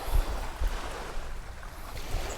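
Water rushes and churns at the Buhay na Tubig swimming spot, a continuous close wash of flow with soft low thumps of wind buffeting, and no one talking.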